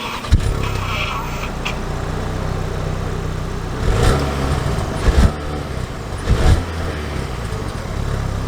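A fully loaded 2022 Ford Maverick Lariat pickup truck pulls away at a steady mid-level engine hum, with a few louder bumps and surges along the way and no talking.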